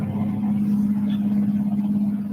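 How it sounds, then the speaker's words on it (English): A truck's engine brake holds back a heavy load on a highway descent with a steady, low droning rumble that stays even and continuous throughout, with no talking. "The engine brake is doing all the work."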